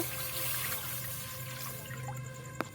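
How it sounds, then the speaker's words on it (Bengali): Milk pours into a pan in a home kitchen, a steady watery trickle that runs throughout, with a small clink near the end. "এবার আমি দুধটাকে ঢেলে দেব"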